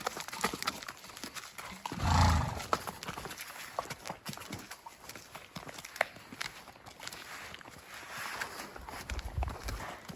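A horse being ridden past a trailer, its hooves thudding in a soft, irregular walking rhythm, faint and close, with a brief louder rumble partway through and no talking.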